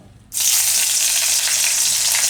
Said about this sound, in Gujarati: તો તેલ આપણું ગરમ થઈ ગયું છે. એમાં આપણે નાખીશું લીમડો